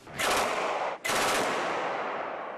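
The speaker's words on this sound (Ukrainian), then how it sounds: "з такого раритетного німецького кулемета сьогодні стріляє вперше" Rapid bursts from a vintage German machine gun firing about 17 rounds per second, two long continuous strings of shots separated by a brief pause, loud and close.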